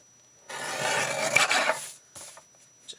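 A handmade card with washi tape has its edges trimmed, making a single rasping, scraping cut that lasts about a second and a half, close and fairly loud, followed by a few faint paper rustles.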